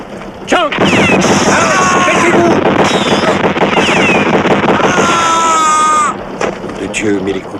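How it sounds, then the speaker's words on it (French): Rapid bursts of gunfire from a boat crackle continuously over agitated shouting voices, with sharp whistling tones overhead before the shooting drops off near the end. "les coups de feu viennent du bateau"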